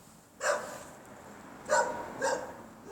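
A stray dog outdoors barks three times, the first bark alone and then two close together, each sharp and moderately near against a quiet background.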